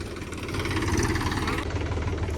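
A 275 Yuvo tractor engine runs at a steady idle close by, a continuous low rumble with a faint vibrating rattle and no break.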